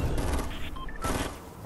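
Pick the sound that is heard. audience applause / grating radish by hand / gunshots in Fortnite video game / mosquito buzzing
gunshots in Fortnite video game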